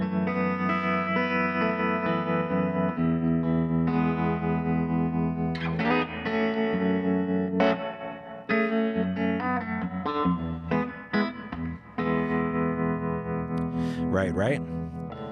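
An electric guitar plays through an Akai tube amp conversion with tremolo running at its set speed without the foot switch, a sustained, pulsing distorted tone with sliding notes and a few squealing bends, alone with no talk.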